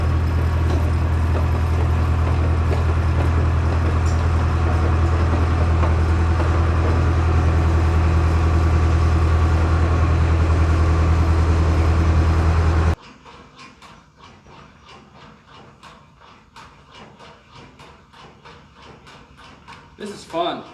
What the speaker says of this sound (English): I just need to pull the dozer up here and put a little fuel in it